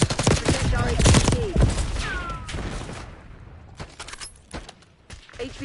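Call of Duty Black Ops 6 multiplayer on the Babylon map, with a dense volley of gunfire and impacts up front that thins into scattered distant shots, under game sound effects.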